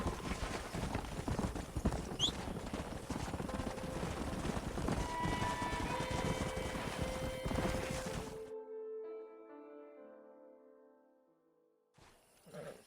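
Horse hooves clip-clop steadily alongside snorts and a whinny in the Western game Red Dead Redemption, close and busy for several seconds before cutting out to quiet tonal music and a brief final burst.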